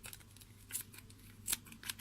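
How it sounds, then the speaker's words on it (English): Small scissors snip at a yarn pompom, with three or four quick, crisp cuts standing out over a low, quiet background. "And then I'm going to use my little scissors,"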